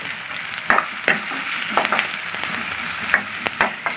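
Green chillies sizzle and crackle in hot oil in a pan while a beef kappa curry is being made, with steady frying hiss and a few sharp stirring clinks, close and alone without speech.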